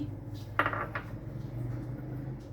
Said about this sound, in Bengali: দিয়ে দিলাম মটরশুঁটিগুলো আরও এক বাটি মটরশুঁটি আমি দিয়ে দিচ্ছি